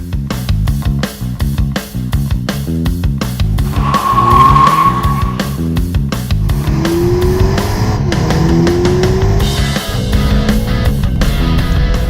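A 2019 BMW 330i M Sport is driven hard, its engine rising and falling through gear changes for a long stretch, close and loud, with a brief tire squeal partway through.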